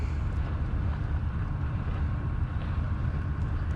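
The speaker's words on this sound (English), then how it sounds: "Might be a little loud because they have a bunch of tractors and stuff." Low, steady engine rumble from tractors working near a pumping site by the water in North Florida, droning continuously throughout with some wind buffeting and no talk.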